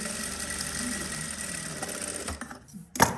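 A sewing machine stitches the seam of a doll collar, giving a steady, close mechanical whir that runs nearly unbroken before cutting out near the end, followed by a brief clink.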